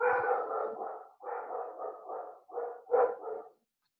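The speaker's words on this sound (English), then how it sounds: "Sounds like my dog needs some stress relief." A dog barks in a rapid run of loud, close, harsh barks, grouped in several bursts over a few seconds, with no talk over them.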